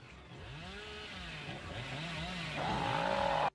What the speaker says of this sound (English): this is Hillbilly's actual chainsaw rate